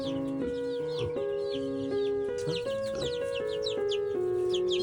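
Chickens cluck and chirp close by in a steady stream, over a constant humming tone, at a resort farm in Belaka, Udayapur, Nepal.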